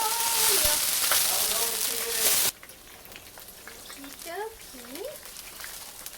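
A vegan okonomiyaki, a Japanese savory pancake, sizzles loudly and steadily in a pan for a couple of seconds before the sound cuts off sharply, leaving quiet background with a voice speaking.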